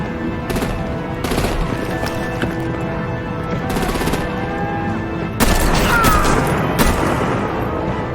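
Sustained gunfire and artillery in the Batman: The Enemy Within game, with bursts of rapid shots over a dense, loud battle din that swells sharply partway through.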